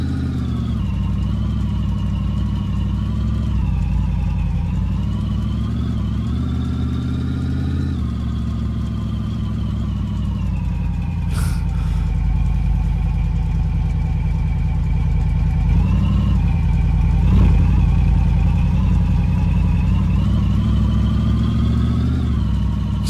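A junkyard truck engine in the garage-restoration game My Garage runs steadily, a low droning hum that swells and eases as the truck creeps forward, with no talking over it.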